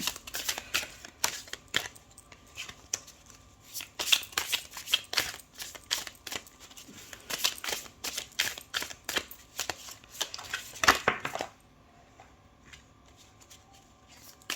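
Tarot cards slide and shuffle close by in a quick run of papery swishes and flicks, thickest midway, then stop abruptly, leaving near silence.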